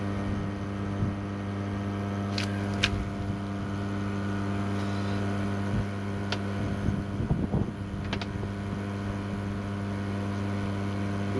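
A pump running steadily, a constant low mechanical hum and drone throughout with a few faint clicks and knocks on top.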